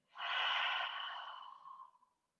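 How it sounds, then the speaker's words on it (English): A single long exhale during a slow-flow vinyasa yoga session, breathy and close, swelling quickly and then fading out over about two seconds with no talking. "Inhaling through the nose. Exhaling."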